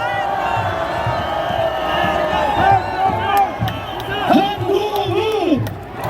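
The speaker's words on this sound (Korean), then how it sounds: "여러분 우리 한동훈 전 대표께 큰 함성과 박수를 해주시기 바랍니다" Large outdoor crowd at a presidential campaign rally in Seoul City Hall Plaza cheering, whooping and chanting, with a continuous roar, rising shouts and scattered clapping throughout.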